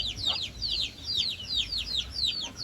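A black-and-white chick peeps in quick, repeated high chirps that run steadily throughout, with soft clucking and faint low rumble underneath.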